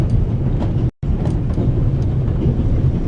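Inside a moving train in The Raven: Legacy of a Master Thief, a loud, constant low rumble rolls on with soft clacks, briefly cutting to silence for a moment before resuming, with no voices.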